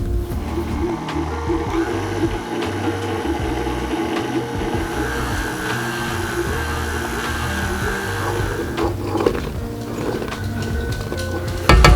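An electric mixer whirs steadily while beating powdered sugar into butter and cream cheese frosting, a loud continuous motor hum that shifts in pitch near the end.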